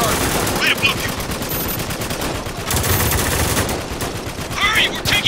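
Heavy gunfire in the Spec Ops: The Line shooter, sustained rapid bursts of automatic weapons fire with loud cracks, steady throughout and rising in intensity toward the end, with shouted voices mixed in.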